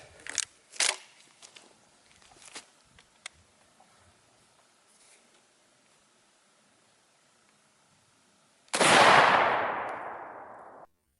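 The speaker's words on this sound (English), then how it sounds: "we got a Magnum 3-inch slug. Let's shoot it and see what happens." A shotgun fires a 3-inch Magnum slug at a bowling ball with one loud, close blast that rings out and decays over a couple of seconds, after scattered light clicks and handling knocks.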